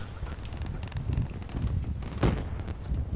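Rapid bursts of VMP submachine gun fire in Black Ops 3, a dense, continuous rattle of shots with a heavy low-end thump and one louder crack near the end, steady and loud throughout.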